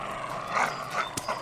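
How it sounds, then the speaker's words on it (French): Dogs bark and yip in a short, agitated burst amid noisy background commotion in a French cartoon scene. "dis à ton chien de se taire"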